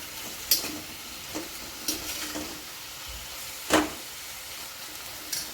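A spatula stirs karadi (safflower leaf) greens in a pan with soft sizzling, giving a few sharp scrapes and clinks at irregular intervals over a steady low hiss.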